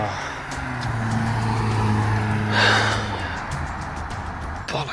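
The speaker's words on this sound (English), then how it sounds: "I think I hear a car. There's a car." A car engine hums and grows gradually louder as it draws nearer, with a brief breathy sound from someone close by.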